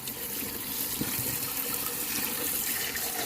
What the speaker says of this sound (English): I'm rinsing them off with cool water, and I'm gonna just sort of turn them over.